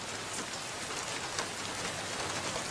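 Steady rain falls in a dense, even hiss of drops on surfaces, close and continuous throughout with no other sounds.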